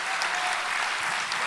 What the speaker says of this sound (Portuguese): uma salva de palmas para o nosso Deus